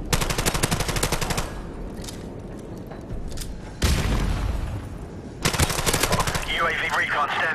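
Heavy automatic gunfire in a Modern Warfare Remastered multiplayer match comes in long rattling bursts with short pauses, punctuated by a loud boom, while an announcer voice is heard near the end.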